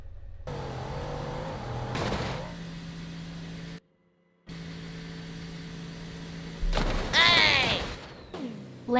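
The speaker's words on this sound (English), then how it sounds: "Bugatti Chiron." A Bugatti Chiron in the BeamNG.drive driving game revs its engine in loud sustained bursts with a rising whine, broken by a short silent gap partway through, before a sharper high-pitched surge near the end.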